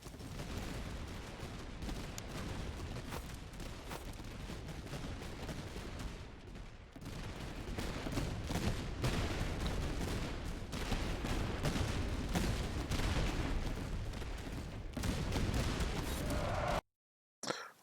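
Musket volleys crackle continuously in the Napoleonic-era strategy game Master of Command, a dense, layered patter of distant gunfire with scattered sharper shots, steady throughout before cutting to near silence at the end.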